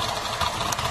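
A Holden VZ Commodore engine idles roughly up close with one ignition coil disconnected and no spark on cylinders 1, 3 and 5, giving a brief, steady, uneven hum.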